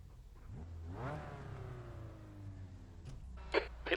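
A Mazda MX-5 race car in iRacing revs up and climbs through the gears, its simulated engine note rising steadily before easing off, followed by a couple of short sharp clicks near the end.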